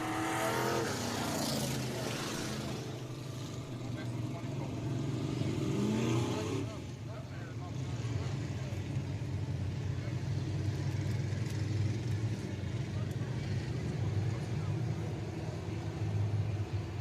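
Pure Stock race cars in a heat race at Deep South Speedway, engines droning at a distance, with a rising, sweeping roar early on as cars pass, then a steady far-off hum, while a voice talks over it.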